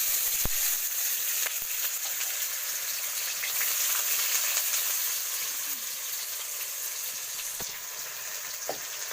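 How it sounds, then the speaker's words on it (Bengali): Chopped onion fries in mutton fat in a pan, giving a steady, close hiss and crackle with occasional stirring clicks throughout. "এখন আমি দিয়ে দিচ্ছি পেঁয়াজ কুচানো"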